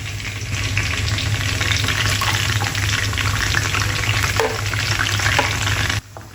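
Radish leaves fry in oil over a low flame, giving a steady, dense sizzle that crackles evenly from start to finish, close and loud, then drops off abruptly near the end.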